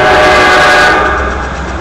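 A train passes close by with a loud, steady horn blast that fades slightly toward the end, over a continuous rumble of rail cars.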